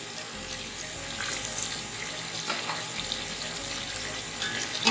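Meat stock (yakhni) poured into a pot of beef bong nihari, a steady splashing, gurgling stream with a faint sizzle underneath, continuous and fairly close.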